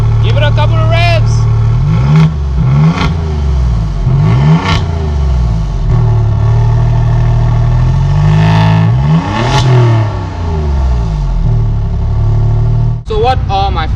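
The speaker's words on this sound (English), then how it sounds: "Give it a couple of revs." Close, loud Alfa Romeo Giulia GTA engine revved several times over a throbbing idle, each blip climbing sharply then falling away, with a pair of revs close together late on.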